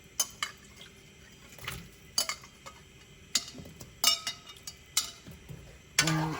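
Russet potatoes dropped into a coddle pot make a series of sharp clinks and knocks against the metal, some spaced apart and some in quick clusters, close and fairly quiet, with a louder clatter at the end.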